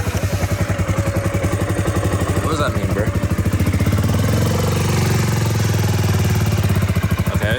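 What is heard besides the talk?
KTM motorcycle engine starting and revving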